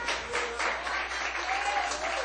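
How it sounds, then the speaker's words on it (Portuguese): A church congregation applauds together in praise during a worship service, a dense burst of clapping that stays fairly even and moderately loud throughout. "Vamos aplaudir Jesus?"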